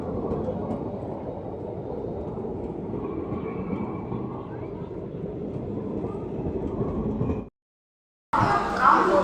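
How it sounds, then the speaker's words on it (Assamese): An arriving train rumbles steadily close by, a continuous heavy roar with voices talking over it, then a brief cut to a louder burst. "বৰ্তমান আমাৰ ট্ৰেইন আহি গ'ল"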